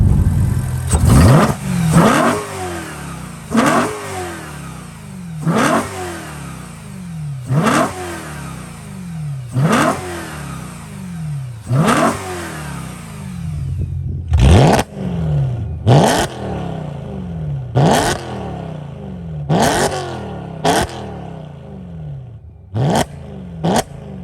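A BMW E92 M3 fitted with an AC Schnitzer exhaust revs repeatedly, close and loud, each sharp blip rising and falling in a steady rhythm, with quicker, snappier revs toward the end.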